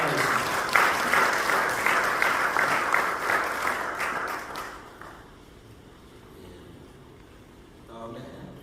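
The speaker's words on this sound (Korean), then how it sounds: "박수로 부탁드리겠습니다" Members at a Korean church mission board general assembly applaud newly elected officers, a strong burst of clapping for about five seconds that stops abruptly, leaving near silence before a voice returns.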